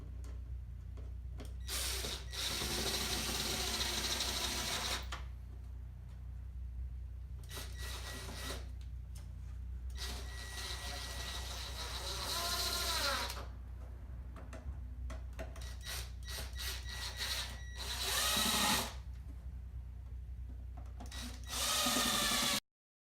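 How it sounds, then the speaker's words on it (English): A power driver drives H5 screws into a wooden table panel during furniture assembly, in repeated whirring bursts of a few seconds each with short pauses between them, fairly quiet and close, ending in one last short burst. "Go ahead and insert your H5 screws into those holes and secure it."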